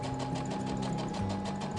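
A sewing machine runs steadily during a basic sewing class at a clothing-reform workshop, its fast needle clatter close and continuous for the whole stretch with no voices.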